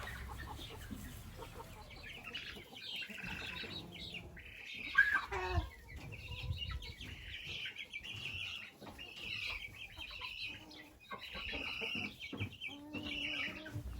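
Chickens of various breeds cluck and murmur steadily throughout, a busy flock heard at close range at a country house with no talking.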